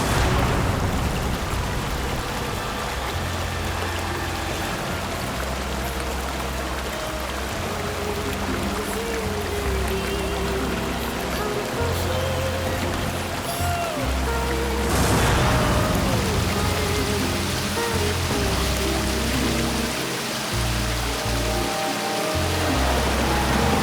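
Water falling at a waterfall: a dense, continuous rushing hiss that stays loud and steady throughout, with faint low tones mixed in underneath and no speech.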